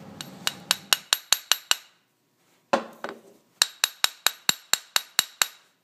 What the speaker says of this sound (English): I think I'm actually marring the surface with the brass hammer